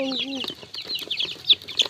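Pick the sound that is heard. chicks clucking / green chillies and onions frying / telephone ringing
chicks clucking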